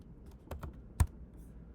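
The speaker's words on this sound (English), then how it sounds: "I'm going to type in my Nike ticker symbol" A few quick keystrokes on a computer keyboard while entering a stock ticker, soft clicks ending in one firmer tap, close and quiet with no talk.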